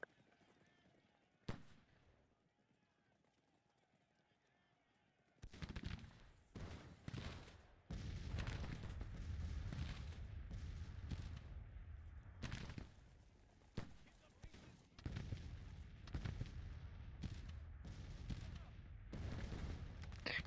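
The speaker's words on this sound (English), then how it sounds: "And then you guys are under some amount of artillery fire." Booming artillery fire in the Grand Tactician: The Civil War strategy game arrives after a quiet start: a lone sharp crack, then dense, loud overlapping blasts and rumbling volleys that continue to the end.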